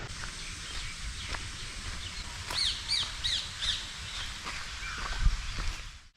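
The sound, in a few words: birds calling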